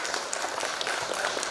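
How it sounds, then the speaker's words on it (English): Steady, dense applause from a literary festival audience, continuous and fairly loud throughout with no voices standing out. "Please give her a big round of applause"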